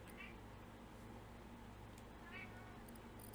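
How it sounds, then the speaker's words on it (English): A pet cat meows twice in a noisy room during video game play, short faint cries over a steady background hum, with brief bits of speech nearby. "I got my cat Beaker here."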